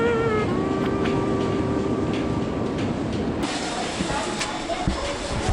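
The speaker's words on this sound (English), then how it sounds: "I had to use the metro for one station to skip a big part of the town" A Kyiv metro train rolls along with a loud, continuous rumble and rattle of the carriages, carrying faint tonal whines and a sharp shift in the noise partway through.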